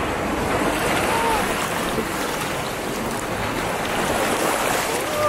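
Strong wind buffets the microphone over steady crashing ocean waves, a loud continuous roar with surging swells and no break throughout.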